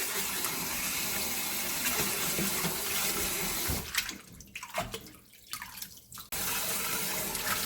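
Cold tap water runs steadily into a kitchen sink while blanched radish greens are rinsed, with a bright continuous splashing stream that breaks into uneven sloshing and handling noises midway before the full flow resumes.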